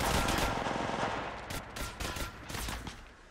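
Gunfire in an Apex Legends firefight, played on a Samsung A70 phone: rapid, loud bursts of automatic fire with several sharp shots over a dense, rumbling background.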